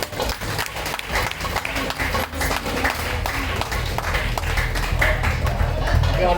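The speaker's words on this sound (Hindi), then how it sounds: "जोरदार तालियां" Dense applause from an audience at an orphanage foundation gathering, a rapid crackle of many hands clapping continuously at moderate distance, with voices mixed in.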